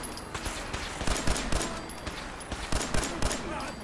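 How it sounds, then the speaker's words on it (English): Pistol shots ring out in Fallout 4 combat, a rapid string of loud, sharp cracks in irregular bursts over constant background noise from the game. "This pistol shreds him, holy shit."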